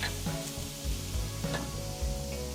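A pork steak sizzles steadily on a hot grill as it gets its first flip, a continuous frying hiss with a few soft scrapes and knocks of the turn, up close.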